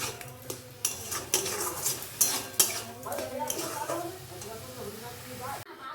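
Carrot laddu mixture with sugar and liquid milk stirred in a pan, giving repeated utensil scrapes and metallic clinks against the pan under a speaking voice.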